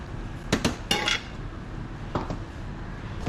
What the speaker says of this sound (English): I'll bring my pan over here